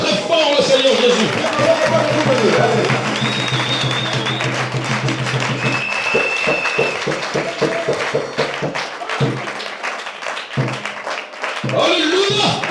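A church congregation at a Sunday service cheers and applauds loudly and continuously, a dense wash of clapping with voices raised over it, fading briefly near the end.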